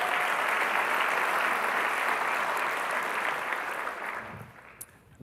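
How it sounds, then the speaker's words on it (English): A meeting audience applauds in a dense, sustained burst of clapping that fades out toward the end. "Can we get a round of applause one more time for Al?"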